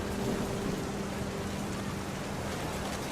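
Thunderstorm rain in the video game What Remains of Edith Finch: a dense, steady hiss of downpour with a low rumbling bed and a faint tonal hum, continuous and fairly loud with no talking.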